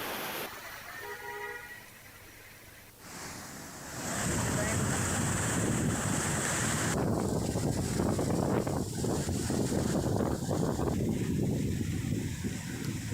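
A stream swollen by torrential rain rushes past in a steady roar of water, with heavy wind buffeting the microphone and a shift partway through to a louder, closer churning flow.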